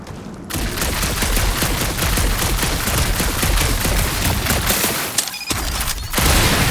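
Rapid, sustained gunfire from Marvel's Guardians of the Galaxy video game combat, a dense loud fusillade of shots running almost without pause, with a brief dip near the end before the firing resumes.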